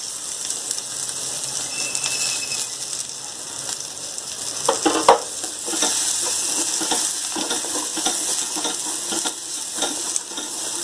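Boiled field beans (mochai) sautéing in a pan, a steady close sizzle and frying hiss with occasional spoon stirs and a brief clink of metal.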